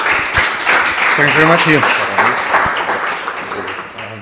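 An audience applauds a speaker at an evening AI and deep learning enterprise talk, a steady wash of clapping running under a man's spoken thanks.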